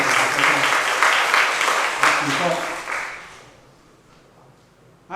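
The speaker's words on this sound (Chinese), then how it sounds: "我为大家鼓掌一下大家高兴" A church congregation at a Taiwanese-language Sunday service applauds in a loud, dense wash of clapping for about three seconds before it fades away, with a voice speaking over it.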